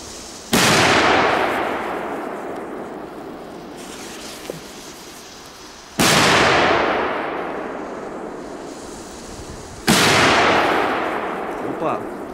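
Three Polish firecrackers go off one after another, several seconds apart. Each is a loud, close bang followed by a fading, reverberant tail.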